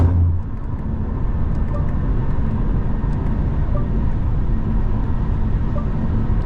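Steady engine and road drone inside a Mercedes-Benz E220d cruising on a highway at about 130 km/h near 1500 rpm, a constant low hum with tire and wind noise and no talking.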